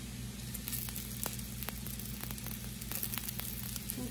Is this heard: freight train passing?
no